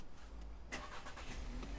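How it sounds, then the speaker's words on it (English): A Volkswagen car engine starts up, a faint quick crank followed by a low steady idle rumble, heard alone. "make sure your car's turned on."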